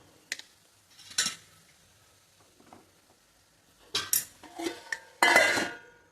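Dal mixed with crushed peanuts being stirred in a pan, short metallic scrapes and clinks of a spoon in scattered bursts, close and moderately loud against quiet gaps.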